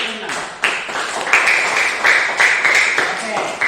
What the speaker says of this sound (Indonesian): Oke, tepuk tangan dulu untuk Irna.